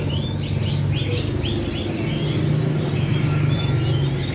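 Several Scotch Fancy canaries chirp and trill in quick repeated phrases over a steady low background hum, close and fairly loud, with no talking.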